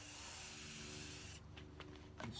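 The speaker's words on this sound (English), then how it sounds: "you spray a row, then overlap it with the next row." An aerosol spray can hisses as paint is sprayed in rows onto the body of a Red Special guitar. One loud, steady spray burst ends partway through, followed by faint handling sounds.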